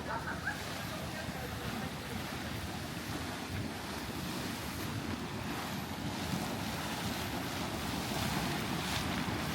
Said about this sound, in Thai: อันนี้เดือดโหดมากเลย